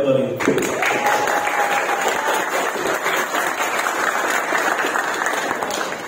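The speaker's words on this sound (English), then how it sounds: "Let us give a big round of applause for Judge Dr. Robert Tolentino." Audience applause for judge and surgeon Dr. Roel Tolentino at an awards event, a brief voice at the start giving way to a full, steady round of clapping that holds at even loudness to the end.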